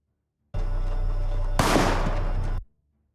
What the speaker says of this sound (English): That's the gunshot, and the driver is dead.